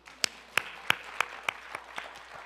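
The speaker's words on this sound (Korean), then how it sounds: "박수." A handful of people in a church service clap about eight times in a slow, evenly spaced rhythm, the claps sharp and close, then fading softer toward the end.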